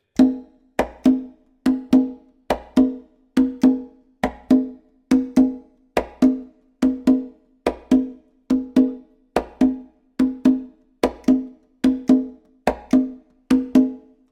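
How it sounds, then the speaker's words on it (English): A hand drum plays a steady repeating pattern of resonant open tones and sharper slaps, evenly spaced and close, with no voices. "we have only 2 sounds on this drum, an open tone and a slap."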